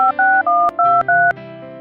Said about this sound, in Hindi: लो जी, तो फटाफट फोन करो उसे।